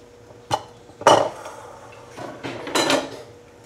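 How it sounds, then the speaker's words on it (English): Sliced onions are tipped into a bowl in a kitchen while making a slow-cooked pork tenderloin roast with sauerkraut and apples, giving a few close clattering knocks and soft scraping rustles spread over a few seconds, with no talking. "So I'm just going to go ahead and add all that to my bowl."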